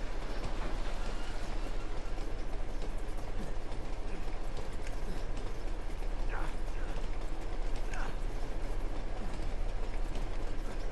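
Steady train rumble from a moving train in the PS4 game Uncharted 2: Among Thieves, a continuous broadband roar with rattling carriages and a couple of brief metallic squeals, loud and unbroken throughout.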